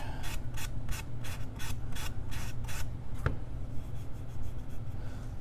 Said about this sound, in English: I'm gonna grab a piece of sandpaper for this edge.